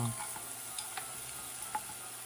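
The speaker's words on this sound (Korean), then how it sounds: "아보카도 오일 한 큰술 넣어주세요. 양파를 넣어주세요." Onions frying in a spoonful of avocado oil, a soft, quiet sizzle with a few light utensil clicks and scrapes.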